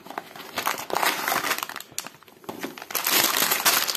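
A small Halloween-themed toy building set box is opened, with crinkling of cardboard and a plastic bag inside, close and fairly loud, in irregular bursts of rustling and crumpling.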